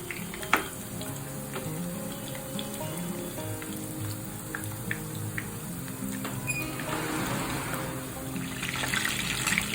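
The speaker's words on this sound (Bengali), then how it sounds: "চিকেনগুলোকে হালকা ব্রাউন করে ভেজে নিতে হবে" Steady sizzling of chicken pieces frying light brown in a pan for chilli chicken, a continuous crackle with occasional light clinks, no voices.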